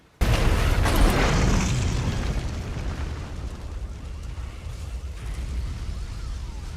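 Car explosion in Zack Snyder's Justice League, a sudden loud boom that bursts in right after a moment of quiet, then rumbles and slowly decays into a long, rolling tail of debris and low roar.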